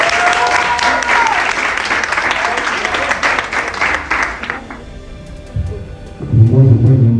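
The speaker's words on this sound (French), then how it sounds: "Et ça s'applaudit vraiment." Audience applause fills a conference hall, loud and dense for about five seconds before fading out, with a voice briefly heard near the end.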